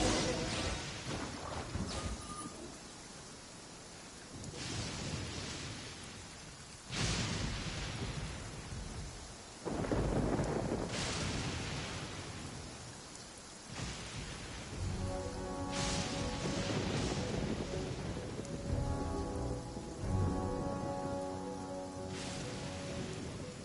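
A video-game thunderstorm brings steady rain with repeated rumbling thunder bursts over about twenty seconds, moderately loud, with no talking.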